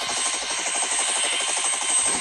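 A helicopter engine runs up in the video game Gorebox, a loud steady whine over a rapid, even rotor chop, close and with no talk.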